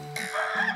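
A duck puppet's voice imitates a rooster crowing, one drawn-out, strained cock-a-doodle-doo call lasting under a second and heard up close with no other talk.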